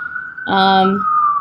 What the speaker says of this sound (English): I'm so sorry for the sirens.